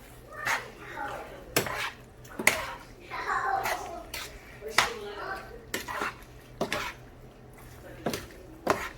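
Creamy penne with chicken, mushroom and spinach is stirred in a pan over low heat, with repeated close clanks and scrapes of a spoon against metal in an uneven rhythm and some soft background noise.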